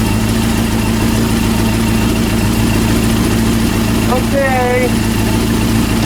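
A Honda CB400 motorcycle engine idles steadily and loud throughout while its carburetor air-fuel mixture and synchronization are adjusted by hand in a room, with a brief spoken word near the end.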